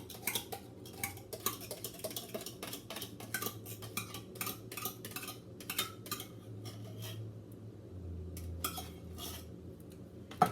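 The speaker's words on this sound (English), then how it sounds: "we're just gonna stir this all mixed up." Spoon stirring a casserole mixture in a bowl in a home kitchen, with soft, close, irregular scraping and clinking against the bowl over a low steady hum, no voices.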